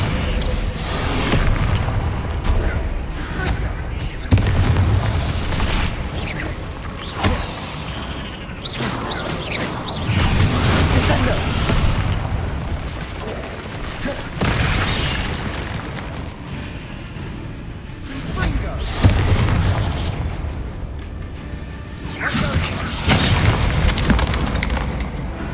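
Deep booms from the Descendo spell in Hogwarts Legacy hit repeatedly over about 25 seconds, each loud crashing impact mixed with splintering debris and rumbling mechanisms, with no talk.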